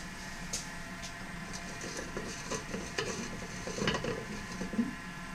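Backwash cleaning of a 10-inch water filter, a continuous gritty, sizzling rush of water churning inside the canister with faint rattles and taps, steady and close throughout, with no voices.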